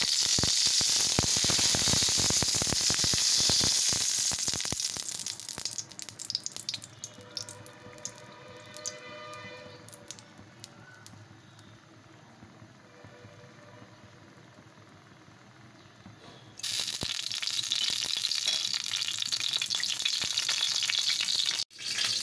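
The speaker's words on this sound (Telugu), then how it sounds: "ఆనియన్స్ పచ్చిమిర్చి వేసి వేయించుకోవాలి" Loud, steady sizzling of onions and green chillies frying in hot oil, easing into softer crackling midway before the hiss surges back up, close by.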